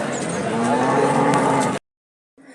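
A buffalo lets out a loud, long, low moo close by at a weekly cattle market in Husnabad, Telangana, which cuts off abruptly into silence before a brief faint sound returns.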